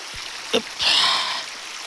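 A stream of cool, clean water pours down at an outdoor forest spot, giving a short, close rushing hiss with a faint splash just before it.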